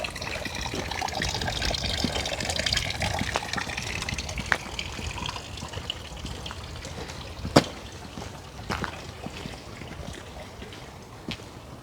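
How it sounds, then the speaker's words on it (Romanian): Spring water from a fountain beside a church in Vienna flows and splashes steadily close by, a continuous gushing rush with a few small clicks and knocks. "Tot aici este și un izvor"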